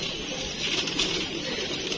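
A pigeon, a peacock-type bird just caught and handled by its keeper, gives soft cooing calls amid a steady broadband rush of background noise, fairly faint and continuous throughout.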